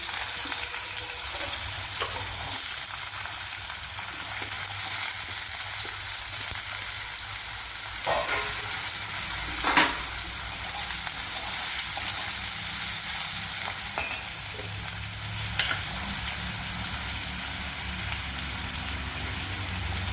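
Small chopped potato pieces fry in oil over lowered heat, a dense, steady sizzle like rain close by, punctuated now and then by brief stirring scrapes and pops.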